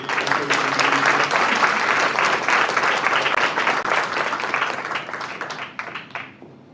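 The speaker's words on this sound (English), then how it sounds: "So everybody give Ms. Wilder a nice round of applause." Applause for Ms. Wilder at a board of education meeting: a room full of people clapping steadily and fairly close, which thins out and fades over the final second.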